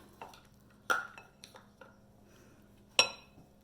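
Cookie dough is scraped off mixer beaters, giving a handful of sharp metallic clinks and taps spaced irregularly, close and fairly quiet, with two louder knocks standing out against a hushed kitchen background.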